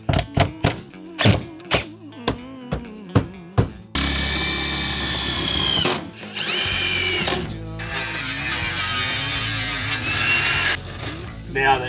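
A power drill fitted with a hole saw cuts a hole, a loud close whirring grind that rises and shifts in pitch over several seconds, after a run of sharp thunks.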